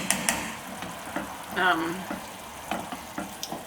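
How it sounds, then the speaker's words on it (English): Food frying in a pot is stirred, the sizzle carrying soft scraping and clinking strokes in an irregular rhythm, close and moderately quiet. "So I'm just going to give that a stir"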